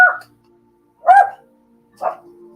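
A dog barks three times indoors, close by, with pauses of about a second between barks and quiet in the gaps.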